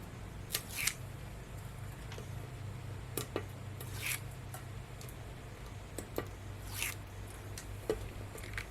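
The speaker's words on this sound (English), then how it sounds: "I'm gonna go ahead and peel off the back" Backing is peeled from an adhesive sheet for a card, producing scattered short, sharp crackles and rips at close range over a quiet low hum, spaced irregularly with several louder tears.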